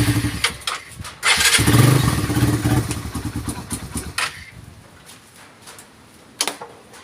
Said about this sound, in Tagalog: Ayan guys, paandarin natin.